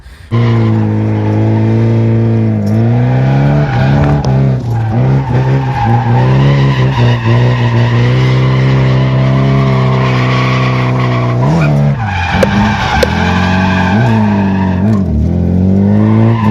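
A 1991 Nissan 240SX S13 drifts, its engine revving loudly and wavering while the tires skid and squeal continuously, with sharper bursts of tire scrubbing and engine swings toward the end.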